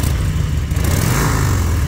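An old Harley-Davidson Sportster 1200 engine, revived after 22 years in a barn, revs freely and loudly close by, a continuous throaty roar with no talking.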